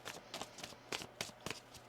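Tarot cards being shuffled by hand in a quiet room, giving a run of soft papery riffles and flicks with a few sharper snaps, close and fairly faint.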